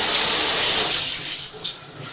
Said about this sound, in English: Now we're going to go ahead and turn on the tub.